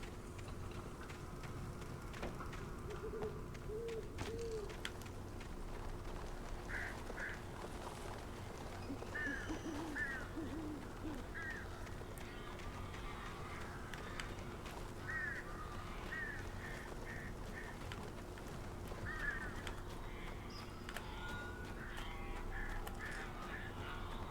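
Bird calls in the Alan Wake video game, short repeated chirps and caws spaced through the clip over a quiet, steady ambient game background.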